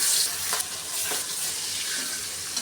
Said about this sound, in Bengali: মাছটা আমি ভেজে রান্না করব